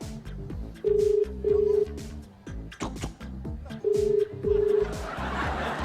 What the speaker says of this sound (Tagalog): Sagutin mo na. Sagutin mo! Ayun na. Ang telepono mo.